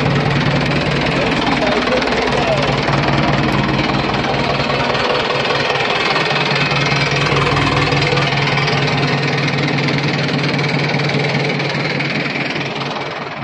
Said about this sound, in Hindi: ट्रैक्टर को बंद करो